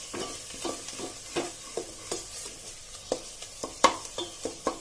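Tomatoes cooking in oil on a low flame for Sindhi-style khade moong dal, a soft sizzle broken by repeated rhythmic scraping strokes of a spoon stirring the pan, close and clear.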